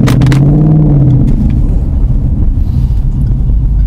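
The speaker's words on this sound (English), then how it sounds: "Okay, let's hear some V8." Ford Mustang V8 engine revving close and loud, a deep rising roar that swells then settles into a heavy rumbling idle, heard from inside the car.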